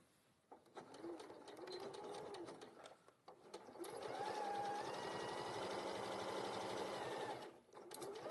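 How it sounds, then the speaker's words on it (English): A sewing machine stitching along the long edge of fabric runs steadily with a fast, even whir, pausing briefly around the middle before starting again, fairly quiet and without talk. "I'm going to put this together first and sew along the long edge"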